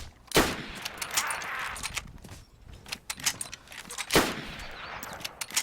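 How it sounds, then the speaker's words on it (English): Gunshots in the video game DayZ: two loud, sharp reports about four seconds apart, with lighter clicks, rattles and handling noises in between. "I'm shooting these guys."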